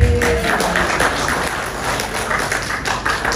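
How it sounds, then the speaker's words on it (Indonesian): Scattered clapping from an audience at the 42nd anniversary celebration of Bakti Husada Cikarang hospital, with light taps and claps spread over a few seconds in a busy room. "Tepuk tangan."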